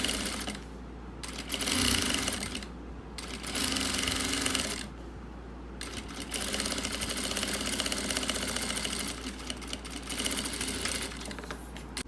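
A sewing machine stitches bias binding onto the end of a fabric pencil case, its motor humming in several runs of rapid, mechanical stitching separated by short pauses.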